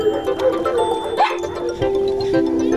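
A dog gives a few short barks and yips close by, one rising whimper-like yelp in the middle, over a humming background.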